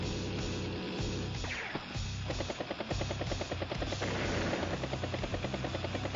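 A battle copter in the video game Advance Wars: Days of Ruin gives off a loud, steady whirring rotor drone. Partway through, a rapid chopping pulse cuts in and keeps up a fast, regular beat to the end.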